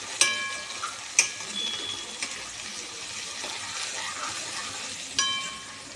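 Tomatoes stirred and frying with onions in a pan, a soft steady sizzle with a few sharp spoon clinks against the metal near the start and end.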